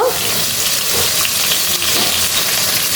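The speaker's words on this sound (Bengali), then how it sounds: "মাছগুলো আমি ভেজে নিচ্ছি" Fish fries in hot oil in a pan, giving a loud, close, steady sizzle with small bubbling pops and no voices.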